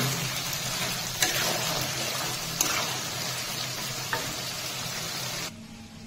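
Chicken skin fries in plenty of rendered oil in a village-style kitchen, giving a steady, loud crackling sizzle with a few faint clinks of a utensil; the sizzle drops away abruptly near the end.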